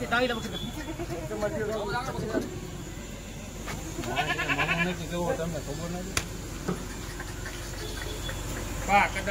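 Kathiyawadi goats bleating several times at moderate distance, wavering calls mixed with people talking nearby.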